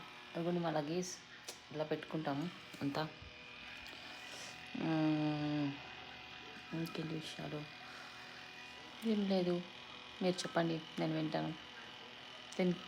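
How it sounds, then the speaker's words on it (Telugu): A small electric fan runs nearby as a faint, steady high whine throughout, underneath someone talking in short bursts. "ఈ సౌండ్ ఏంటి అనుకుంటున్నారా? నా చిన్న ఫ్యాన్."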